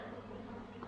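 Honey bees swarming around a mango tree on Réunion Island, a continuous low droning hum from many wings, fairly faint and steady.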